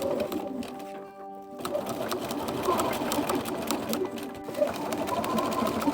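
A domestic sewing machine stitches layers of cloak fabric and lining together, a fast continuous mechanical whirr with short pauses and restarts, close and fairly quiet.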